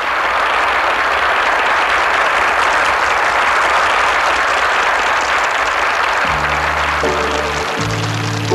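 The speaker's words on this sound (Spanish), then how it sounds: "con el aplauso de todos ustedes vamos a recibir" Loud, sustained audience applause at a 1976 performance, a dense wash of clapping; near the end, sustained musical tones begin to rise beneath it.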